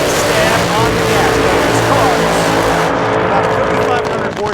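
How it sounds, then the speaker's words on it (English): An AA/Fuel dragster with a roughly 5,500-horsepower engine and an old 671 Roots blower does a burnout at a drag-racing meet, a loud, sustained roar filling the whole stretch while a commentator talks over it. "There's the race car getting set for the burnout."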